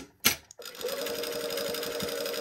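Sewing machine stitching a sweater hem, a brief clatter of handling, then a steady, close rapid whir of continuous stitching.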